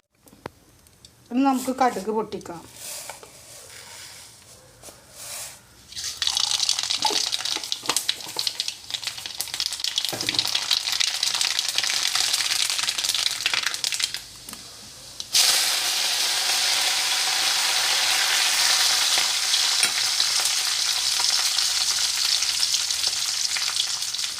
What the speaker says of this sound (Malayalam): ഇനി നമുക്കിതൊന്ന് കടുക് പൊട്ടിക്കാം.